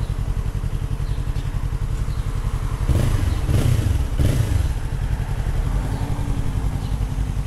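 A 2022 Yamaha MT-03 motorcycle idles with a rapid, even exhaust pulse nearby, then revs in a few quick bursts in the middle before settling back to a steady idle.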